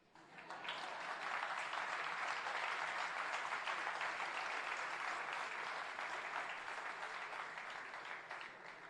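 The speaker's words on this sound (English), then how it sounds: "I would clap for that." Sustained applause from an audience at the Jamaica Diaspora Conference, a steady wash of clapping that swells in and holds for several seconds at a fairly distant, soft level.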